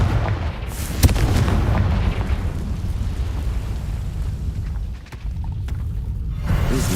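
Confringo explosive spell in Hogwarts Legacy, a loud blast followed by rolling booms and crackling detonations that fade, then swell again at the end.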